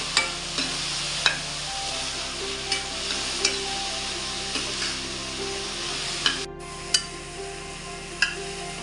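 Shevla, a wild monsoon vegetable, stir-frying with cumin in a pan: a steady sizzle marked by regular scraping clinks of a spatula against metal roughly every half second, close and clear, with no voices.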